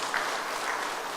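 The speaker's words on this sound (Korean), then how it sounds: "감사의 마음을 담아서 또 축복하는 마음으로 박수 한번 하겠습니다" Congregation in a church service clapping together in steady, dense applause that fills the room, continuous and fairly loud throughout, with no speech over it.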